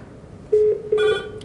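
An Avaya IP Office desk phone rings nearby with two short electronic tone bursts in quick succession, the second one richer and brighter.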